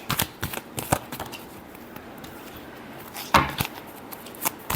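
A deck of tarot cards is shuffled by hand in short riffling bursts, close and crisp, with quiet pauses between the flurries and no talking.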